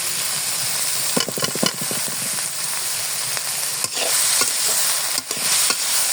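Shrimp and bitter gourd are stirred in a sizzling frying pan, with a steady hiss of oil broken by scraping and clattering of the spatula against the pan, close and fairly loud.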